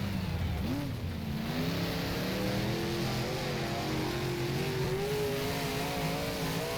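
A big block modified race car engine in rFactor at Lebanon Valley drones loudly and continuously, its pitch wavering as the throttle is worked through a loose corner, with no voices.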